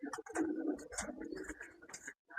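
Pigeons coo steadily at a village pigeon loft, a close, continuous layered murmur of several birds with a brief pause near the end.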